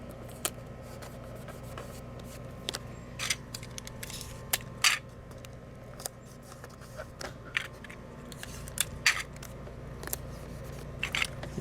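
Scissors snip excess black paper taped over a book cover, a string of short, crisp cuts at uneven intervals in a quiet room.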